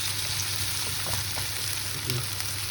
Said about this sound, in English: the chops is kind of sticking at the bottom, so make sure that you just give it a nice scrub